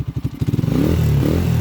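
Honda TMX motorcycle engine revved after a timing gear replacement, rebored block and new valve seals, starting as a chugging idle and quickly rising into a loud steady rev, close up.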